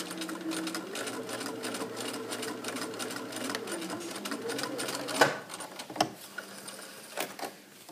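Domestic sewing machine running slowly along a seam on patch shorts, a steady close whirring hum with a few sharp clicks near the end as stitching stops and back-tacks, no voices.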